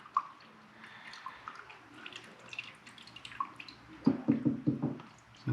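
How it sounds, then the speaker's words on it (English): Diesel fuel drains from the fuel filter of a VW Golf MK7 TDI as a faint, irregular trickle and drip that grows into louder splashing bursts near the end. "So let the fuel drain out of that guy."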